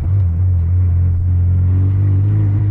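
An RSX car, restored from abandonment with new upgrades, drives along a road, giving a loud, steady low engine rumble that holds even throughout with no voices.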